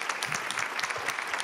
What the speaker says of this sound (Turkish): Sazlarıma bir alkış, orkestrama bir alkış.